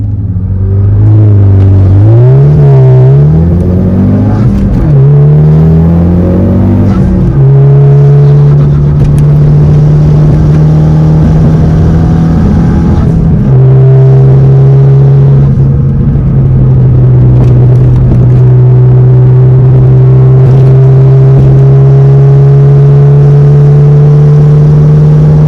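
A Ford Focus ST fitted with race motor mounts accelerates hard, its engine rising in pitch through a couple of early gear changes before settling into a long, loud, steady drone close by.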